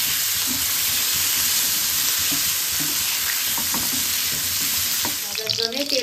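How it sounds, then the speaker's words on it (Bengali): Chopped potatoes fry in hot fish oil seasoned with salt and turmeric, a loud, steady, close sizzle that runs throughout, with faint stirring knocks and a brief shift in texture near the end. "ওই তেলেতে আলু যে কুচিয়ে রেখেছি দিয়ে দিলাম"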